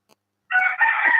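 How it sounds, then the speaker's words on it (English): A rooster crows loudly and close behind a phone caller, a single strained, drawn-out cock-a-doodle-doo after a brief tick and a moment of quiet. "What kind of sharp rooster you get behind you"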